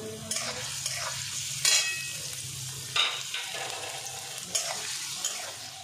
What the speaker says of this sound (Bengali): আগে গাজরটা কিছুক্ষণ ভেজে তারপরে আমি ক্যাপসিকামটা ভেজে নেব